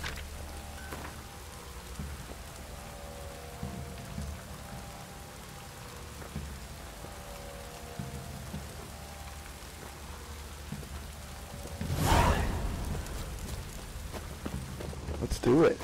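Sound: rain downpour in The Witcher 3 video game

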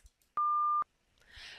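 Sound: high-pitched tone from the Conners CATA attention test

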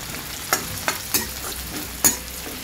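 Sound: onions frying in oil

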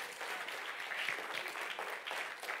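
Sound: congregation applauding in church

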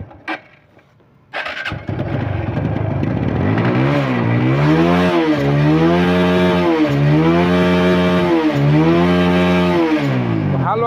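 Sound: TVS Apache RTR 150cc motorcycle engine started and revved

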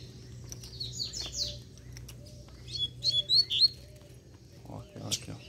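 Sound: collared seedeater (gola) bird chirping

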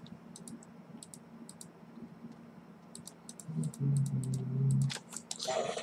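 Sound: computer mouse clicking during pixel art editing

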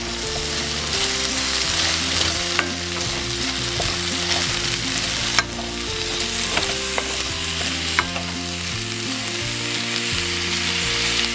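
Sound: potatoes frying in a pan for picadillo

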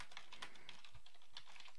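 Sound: typing on a computer keyboard

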